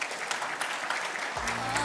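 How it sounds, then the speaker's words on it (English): Audience applause at a business breakfast event, a dense, loud burst of clapping from a crowd filling the whole moment, with a low musical tone entering toward the end. "Please, will you give her a warm round of applause?"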